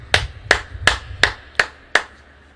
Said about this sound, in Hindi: वाह, यहां ताली बजनी चाहिए इस बात के ऊपर।